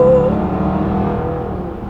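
A Range Rover Sport SVR engine gives a brief, loud rev that then settles into a strong, steady exhaust drone, with no voices.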